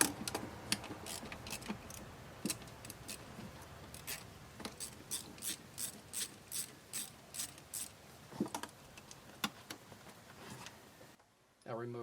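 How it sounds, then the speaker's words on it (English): Sharp rhythmic clicks of a ratchet loosening a hose clamp on a Nissan 3.5L V6 air intake, close and distinct, in repeated bursts, with someone talking quietly underneath. "the first thing I'm going to do is loosen the clamp right back here"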